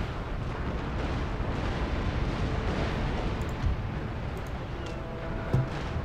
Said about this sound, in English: I fire both my broadsides too.